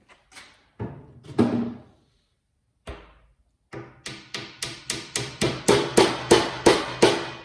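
A piece of wood with glue is tapped into a hole in a wooden washer-and-dryer countertop, first a few scattered knocks, then a steady run of about a dozen close, evenly spaced taps.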